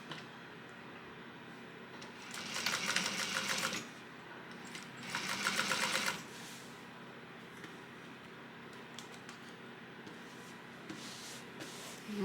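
A sewing machine stitching down the center of a piece with the needle lowered, two bursts of steady rapid needle rhythm of about one and a half seconds each, close and moderately loud, separated by quieter handling sounds.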